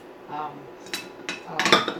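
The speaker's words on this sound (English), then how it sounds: "So I'm going to pour everything in, the rest of the onions." Red onions and pickling fillings for Swedish pickled herring tip into a glass jar, with a few light clinks building to a busier clatter of glass and utensils at the end.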